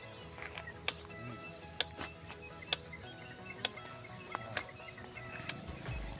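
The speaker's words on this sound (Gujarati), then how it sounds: "મિત્રો મશીન ઓલરેડી ચાલુ છે એનો અવાજ તમે જોઈ શકો છો" A battery-powered electric fence energizer (zatka machine) runs, giving faint, sharp ticking pulses at a regular rhythm of roughly one per second over a low background hum.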